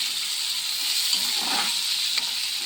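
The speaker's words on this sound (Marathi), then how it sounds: "याच्यामध्ये कांदा आणि हिरवी मिरची कलसायला टाकलेलं आहे." Chopped onion and green chili fry in hot oil in a pan, giving a steady, close sizzling hiss with a few soft stirring scrapes.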